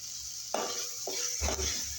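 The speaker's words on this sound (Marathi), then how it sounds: "चांगलं मिक्स करून घेऊया." Chillies, garlic and curry leaves stirred in a hot pan for mung dal khichdi: a soft sizzle with a few scraping, clinking strokes of a spoon against the pan, close and moderately quiet, no voices.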